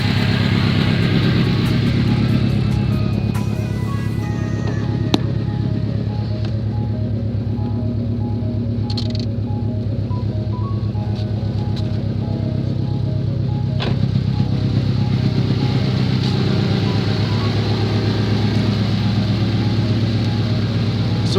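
A Subaru WRX engine idles steadily close by during coolant bleeding, a constant even hum with a few faint clicks and rattles over it and no change in revs.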